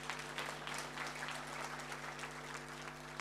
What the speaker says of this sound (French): Applaudissez pour Internet.